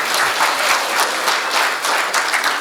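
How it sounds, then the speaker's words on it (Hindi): Steady audience applause welcoming a poet at a comedy poetry event, many hands clapping continuously and fairly loud, with no talk over it. "सीधे सीधे एक बार मेरे स्वागत में तालियां बजा दे"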